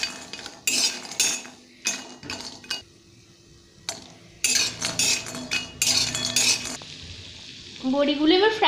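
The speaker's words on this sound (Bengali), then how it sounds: "প্রথমে গ্যাসে একটা কড়াই বসিয়েছি, তাতে আমরা সর্ষের তেল দিয়ে দিচ্ছি। এই তেলটায় আমরা বড়িগুলোকে ভেজে নেব।" Bori lentil dumplings fry in mustard oil in a wok on a gas stove, sizzling under repeated scraping and clinking bursts as a metal utensil stirs them, with a brief rising tone near the end.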